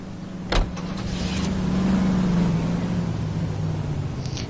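A car in the video game L.A. Noire: a sharp thump like a door shutting, then a low steady engine hum that swells and settles, idling on with a faint click at the end, no speech.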